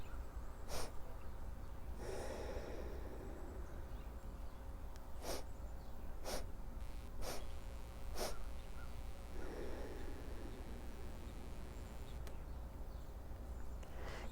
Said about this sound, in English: The inhale is done in 4 sniffs,